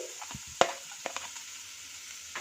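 Chopped garlic and ginger sizzle in a teaspoon of butter for hot and sour vegetable soup, giving a soft steady fry with a few sharp stirring clinks and scrapes near the pan.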